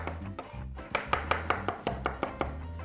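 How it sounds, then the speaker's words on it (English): Garlic cloves sliced very thin on a cutting board, a quick run of about a dozen crisp knife taps in a steady, slightly uneven rhythm, close and clear with no talking. "4 or 5 cloves of garlic. I'm going to slice them into very thin slices."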